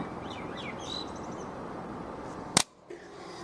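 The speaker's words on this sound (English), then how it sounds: "There's just one bird up there making its noise." A single bird tweets outside the window with a few short, fairly faint chirps over a steady room hum, followed by a sharp close knock.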